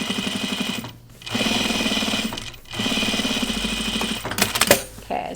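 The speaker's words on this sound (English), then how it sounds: "I'm just double needle top stitching, or single needle top stitching twice" A home sewing machine runs in two long bursts of single-needle top stitching on denim jeans, with a brief pause between them and a short clatter of handling at the end.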